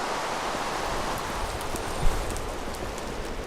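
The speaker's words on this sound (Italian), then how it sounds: "Mi sta dando fastidio il rumore della pioggia" Steady video-game rain hisses evenly and close throughout, a dense continuous wash with faint patter and no voices over it.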